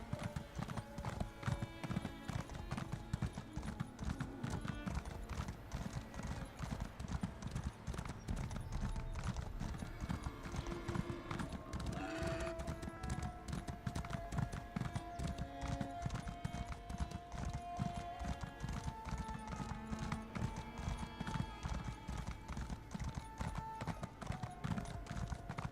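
Horse hooves clip-clop steadily throughout a ride in the video game Elder Scrolls Online, a continuous even gallop rhythm under a bed of game music and ambience, with an occasional whinny.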